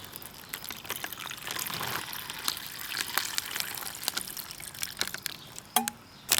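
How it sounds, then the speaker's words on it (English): Water pours into an MRE beverage bag up to its fill line, a close, faint trickle of liquid with scattered drips and splashes. It is uneven and ends with a few crinkly handling sounds. "fill with water to appropriate fill line, add beverage powder"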